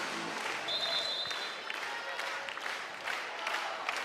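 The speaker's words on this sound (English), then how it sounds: "Crowd to its feet once again" Spectators at a Louisville vs. St. John's women's college volleyball match cheer and applaud, a broad, steady crowd roar with a sharp whistle early on.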